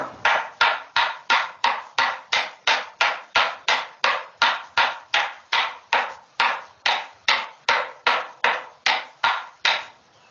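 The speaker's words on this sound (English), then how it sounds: "That was scraping and beating to get this just as finely cleaned as possible" Flax fibres being scraped and beaten by hand, about twenty-two loud, evenly spaced strokes in a steady rhythm, each a sharp swishing hit that fades quickly, with no talk.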